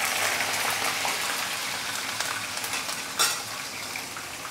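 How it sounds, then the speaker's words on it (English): Fish deep frying in hot, smoking oil in a home kitchen: a continuous, close crackling sizzle with dense spitting pops and one brief louder burst partway through. "deep fry the first the bottom layer for at least about 1 to 2 minutes before you flip it over"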